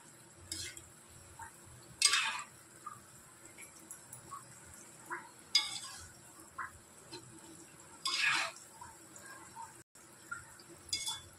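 Roti gulab jamun fry in oil over low to medium heat under a quiet background bubble, with occasional soft clinks and brief louder scraping bursts as they are gently stirred.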